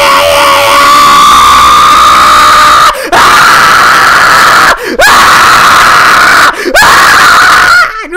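A loud, sustained shriek in the game Ace Attorney: Trials and Tribulations, repeated in long bursts separated by brief silent breaks, with no talk.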